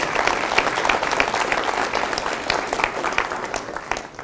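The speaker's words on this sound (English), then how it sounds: "I want to just give him a round of applause and his team for putting this together year after year." Audience applause for an event organiser and his team, a dense steady crowd clapping that fills the whole stretch at moderate loudness with no talk over it.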